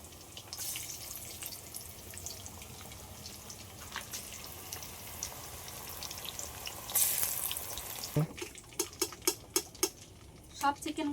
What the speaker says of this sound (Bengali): বাকিগুলোও ভেজে নিচ্ছি